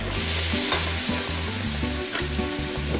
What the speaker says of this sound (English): I'm going to heat up some orange liqueur, then I'm going to toss it over the pan of pancakes and I'm going to set fire to it